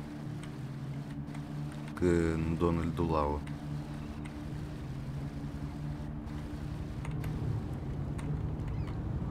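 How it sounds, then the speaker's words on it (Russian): A motorboat engine in GTA 3 Definitive Edition hums at a steady low drone throughout, while someone talks over it for a second or so. "Короче, близко к Дональду Лаву мы не сможем припарковать катер."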